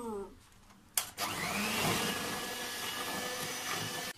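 An electric mixer switches on abruptly and whirs loudly and steadily through cake batter in a home kitchen, a continuous close motor drone after a brief quiet start.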